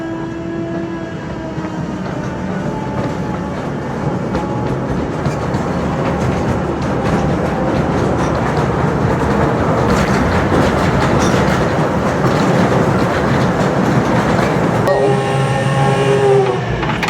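A mine tour train rolls on rails through the Strataca salt mine in Kansas, a loud continuous rumble and rattle with rhythmic clicking that builds, then shifts near the end to a steadier tonal hum.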